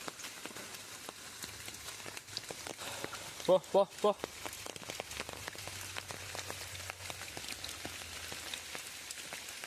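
Steady rain patters on surfaces throughout, close and continuous, while a voice briefly calls out a few short repeated words partway through.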